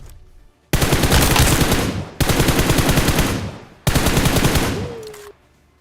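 Video game gunfire comes in three sustained automatic bursts, each about a second and a half long with short gaps between, loud and dense, and ends in a brief tonal ring.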